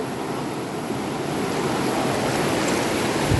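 Steady broadband rush of flowing river water in Kerala, constant and fairly loud throughout with no voices.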